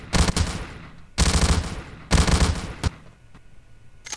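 Video game WWII Soviet-era weapon fired in three loud, close automatic bursts of about half a second each, separated by brief gaps, with faint room noise and no talk.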